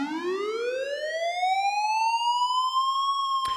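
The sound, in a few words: synthesized police siren made with Vital synth panning left to right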